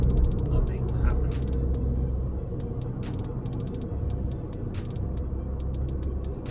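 Engine of a Volkswagen Passat 2.0 TDI 16V 4Motion turbo diesel with a fault, a steady low rumble as gas is given on flat ground, close and continuous, with scattered clicks above.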